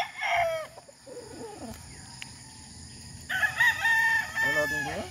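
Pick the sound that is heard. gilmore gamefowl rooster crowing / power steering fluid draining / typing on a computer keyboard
gilmore gamefowl rooster crowing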